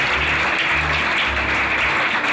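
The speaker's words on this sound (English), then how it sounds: "give me a big round of applause" Loud, dense applause from a crowd at an Elton John AIDS Foundation charity benefit auction, a sustained close wash of clapping with no speech.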